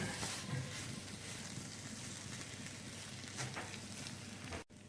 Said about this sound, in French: Cette étape de faire revenir le riz dans la poêle est très importante